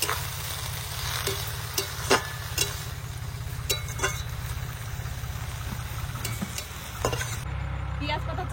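A spiced curry of onion greens with small puti fish, seasoned with turmeric and salt, simmers in a pan as water goes in. A constant low bubbling sizzle carries scattered sharp clicks of a stirring spoon.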